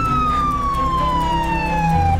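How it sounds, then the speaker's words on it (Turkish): A loud, close ambulance siren wails in a slow descending tone, sustained throughout over a steady engine rumble. "Açın yolu, ambulans geliyor."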